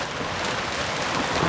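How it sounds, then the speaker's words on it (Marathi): Heavy rain pours steadily on a campsite, a dense continuous hiss of drops drumming on surfaces with no letup, close and loud throughout. "पाऊस बघा किती जोरात आलाय"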